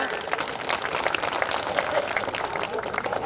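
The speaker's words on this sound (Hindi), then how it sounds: "मैं चाहता हूं पहले चक्र के लिए जोरदार तालियों से आप उन्हें विदा करें।" A kavi sammelan audience at the Kishanpur fair claps steadily to send off a poet, dense, even applause from a crowd, loud and continuous throughout.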